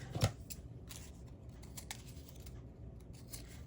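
Scissors cut a paper piece for a handmade Ferris wheel craft, with faint soft snips and rustling close by in a quiet room after one sharper cut at the start.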